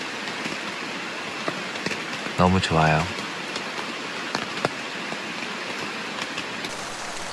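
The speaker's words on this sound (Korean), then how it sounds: "빗소리 좋아요." Steady rain falls on a campsite, a dense even hiss throughout, with a brief stretch of talking in the middle over the downpour.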